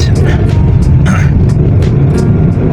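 Heavy trucks rumble loudly and steadily past at a crossing nearby, with faint clicks and sharp clatters rising above the engine noise.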